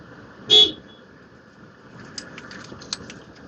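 A single short car horn honk, fairly loud and close, followed by quiet road ambience with a few faint clicks.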